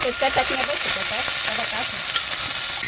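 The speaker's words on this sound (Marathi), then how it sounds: "तवा तापायला टाकलाय त्याच्यावर मिरच्या टाकी ती थोडस खोबरं टाकले" Green chillies and coconut roast on a hot tawa with a steady, close hissing sizzle, while a voice talks over it throughout.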